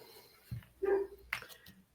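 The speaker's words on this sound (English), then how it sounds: "Probably gonna hear my dog bark" A pet dog indoors gives a few short, fairly faint barks and yips at a distance, spaced irregularly over two seconds with no talking.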